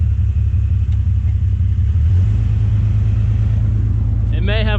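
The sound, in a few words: truck engine revving as driver gives it gas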